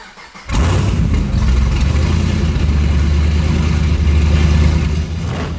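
A Camaro's engine cranks and fires after a short pause, then settles into a loud, steady, rumbling idle close by, with no voices over it.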